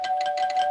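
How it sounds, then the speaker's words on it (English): Peter rings the doorbell in Family Guy: a bright electronic chime holds one steady pitch with a quick pulsing flutter, loud and alone for under a second. "Even when Peter rings the doorbell, Brian gets shocked for it."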